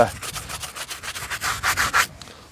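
Brush scrubbing a car tyre coated in cleaning foam, a close series of rhythmic rubbing strokes that grow stronger toward the end and then stop, with no talking.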